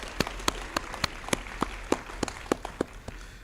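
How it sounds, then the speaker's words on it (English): Family members applaud at the Mississippi School of the Arts Class of 2025 graduation ceremony, with sharp, evenly spaced nearby claps standing out over a lighter background of crowd clapping. "What about a sibling of a graduate? Yeah, round of applause."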